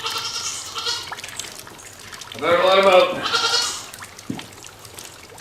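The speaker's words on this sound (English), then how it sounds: "Even the goats are pissed off. Listen to them." A goat lets out a loud, wavering bleat close by, with someone talking before and after it and faint outdoor noise behind.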